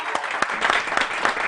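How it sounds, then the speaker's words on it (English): Audience at a live Living Lekker Locally launch event clapping, a steady, fairly close round of applause with distinct individual claps throughout. "I think we need to clap for you"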